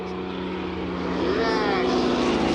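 A Yak propeller aircraft passes at an air show on a former RAF airfield at Elvington, York, its steady engine drone swelling louder as it nears, with a pitch sweep as it goes by, under the voices of onlookers.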